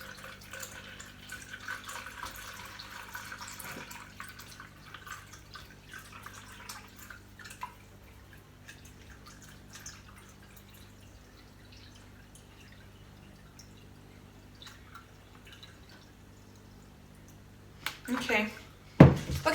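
Filtered water pours into a graded jug while preparing a homemade oral rehydration solution, a soft steady trickle and drip that runs under a person talking, ending with louder clinks and splashes near the end.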